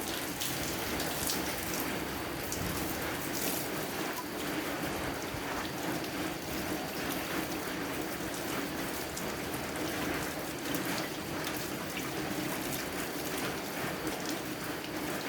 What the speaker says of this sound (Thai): โอ้ฝนหนักขึ้นหนักขึ้นเลยครับ